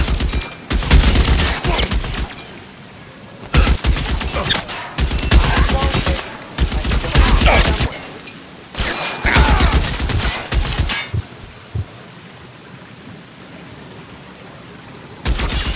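Heavy gunfire from a shootout in L.A. Noire, with dense bursts of rapid shots in several loud volleys separated by short pauses, and one last burst at the very end.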